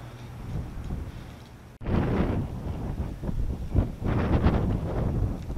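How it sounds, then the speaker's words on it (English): Steady wind buffets the microphone in loud, rumbling gusts that swell and ease without pause. "Tad bit windy today."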